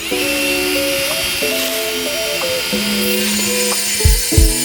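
A power tool slots holes into a wooden post for lag bolts, giving a loud, steady high whine with shifting pitch that steps up and down, close to the mic, and two thumps near the end.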